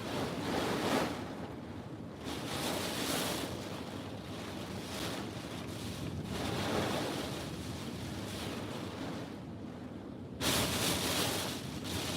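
Strong wind gusts roar across the microphone in waves, building and easing over the stretch with a sharp fresh blast near the end, loud and continuous with no voices.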